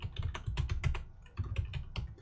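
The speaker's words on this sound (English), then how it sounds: "You are typing very furiously." Rapid bursts of keystrokes on a computer keyboard during a multiplayer Kerbal Space Program game session, close and fairly quiet, in quick clustered runs with a brief pause midway.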